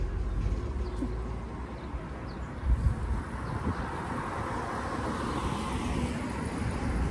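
Steady roar of nearby highway traffic rumbling past continuously, with faint bird calls drifting over the constant wash of engine noise.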